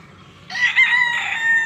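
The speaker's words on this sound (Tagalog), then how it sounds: "marami pang mga manok dito" A rooster in a chicken pen crows once, a single loud, close, sustained call that starts abruptly and carries strongly over faint background sound.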